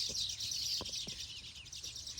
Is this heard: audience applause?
no